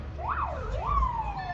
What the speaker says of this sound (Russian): Вот едет еще одна пожарка